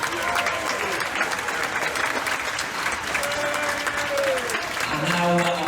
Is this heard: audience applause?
yes